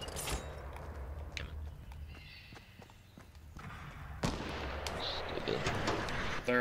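Gunfire in a Fortnite Battle Royale duo match, scattered sharp shots and thumps at moderate distance, with a louder burst near the end.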